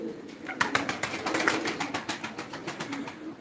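Diyarbakır tumbler pigeons coo in a loft, a close rhythmic series of soft repeated coos and wing rustles with several birds overlapping, fairly loud and continuous for a few seconds.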